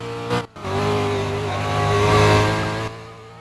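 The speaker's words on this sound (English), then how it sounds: "Ooh, I hear cars. There's one car on the track." A single race car laps a time attack track at the 2025 Patriot GP, its engine holding a steady, buzzing drone at moderate distance with one brief dip near the start before the note climbs and then fades.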